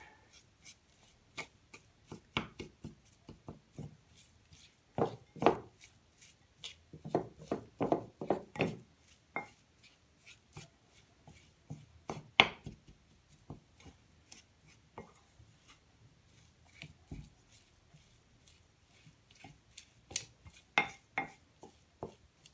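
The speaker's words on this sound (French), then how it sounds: "Et là je vais venir tout simplement mélanger, n'est-ce pas, les ingrédients." Homemade fresh cheese being mixed with garlic and herbs in a bowl, heard as irregular scraping and clinking of a utensil against the dish, with sporadic louder knocks and quiet gaps between strokes.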